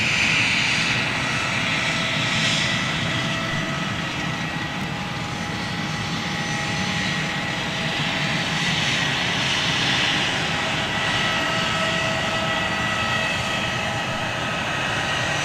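Aircraft engines roar steadily at London Gatwick airport, a loud continuous rumble with a high whine layered over it that holds without a break and without voices.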